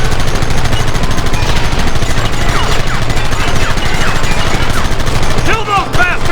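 Loud, dense gunfire rattles without a break in a Red Dead Redemption battle, with many overlapping shots. Shouted voices can be heard through the barrage.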